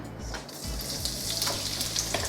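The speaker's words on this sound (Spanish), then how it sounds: "vamos a echar un chorrito de aceite para poner a sofreír lo que habíamos picado anteriormente" Chopped onion sautéing in a splash of oil for chicken and rice, a continuous close sizzle with faint stirring scrapes and small crackles.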